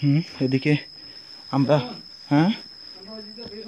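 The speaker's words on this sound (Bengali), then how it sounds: "আপনারা ঝিঝি পোকার ডাক শুনতে পাচ্ছেন," Crickets chirp steadily around a huge tree outdoors, a thin continuous high trill running under short bursts of nearby conversation.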